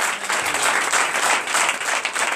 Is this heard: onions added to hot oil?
no